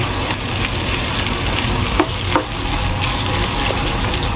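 Tomatoes and shrimp paste cook in a pan with a loud, constant sizzle and bubbling, plus a couple of faint clinks partway through.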